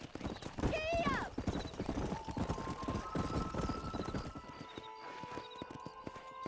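A horse galloping in the video game Red Dead Redemption, with rapid, rhythmic hoof clip-clops, a short whinny near the start and a rider's voice calling out over the hoofbeats.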